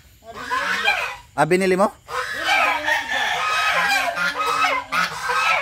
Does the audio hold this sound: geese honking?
yes